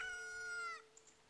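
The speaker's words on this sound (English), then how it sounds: "A chicken hatched." A newly hatched chicken in The Legend of Zelda: Ocarina of Time gives a sustained, bright, tonal call that cuts off sharply. Two tiny faint chirps follow, quiet and alone with no speech.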